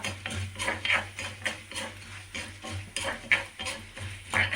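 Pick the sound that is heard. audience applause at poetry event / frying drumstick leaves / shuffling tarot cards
frying drumstick leaves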